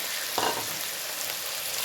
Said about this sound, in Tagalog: Ayan na ang ating bawang, sibuyas, kamatis. Ilagay na natin ang ating pork.